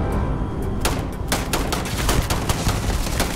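Rapid rifle fire in the video game Starfield, a dense run of sharp gunshots that starts near one second and continues steadily to the end, loud and close with no talk over it.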